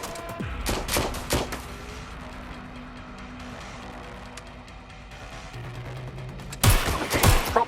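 Gunfire in the action game Watch Dogs Legion: sharp bursts of shots crack close at the start and again near the end, with quieter ambient rumble and distant engine hum filling the middle.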